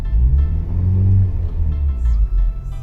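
A Honda Civic Type R FK8 idles steadily just after starting, a loud, continuous low rumble that swells slightly midway and holds on with no voices over it.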